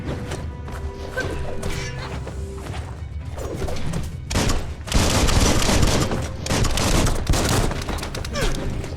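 Gunfire and smashing impacts erupt during combat in the video game Biomutant as a character fires a weapon, with rapid bursts of loud shots and crashes that intensify midway, under intermittent talk.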